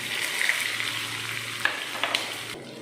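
Finely chopped onions crackling in a hot tempering of oil with mustard seeds, cumin, dried red chillies and crushed garlic, a steady close sizzle broken by a few sharp stirring clinks.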